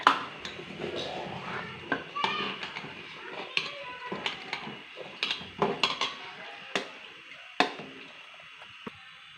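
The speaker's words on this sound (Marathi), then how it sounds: "पाणी घालून चांगलं मिक्स करून घ्यायचं आहे" A spoon works wheat and water together in a metal pot for wheat kheer, giving irregular clinks, knocks and scrapes against the pot, close and moderately loud, with no talking.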